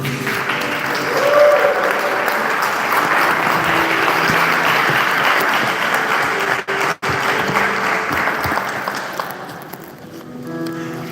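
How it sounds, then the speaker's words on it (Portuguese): A church congregation claps for Jesus at a Sunday communion service, a dense, sustained wave of applause filling the room for about eleven seconds, briefly dipping near the end as it tapers. "Você pode dar uma salva de palmas para o Senhor Jesus?"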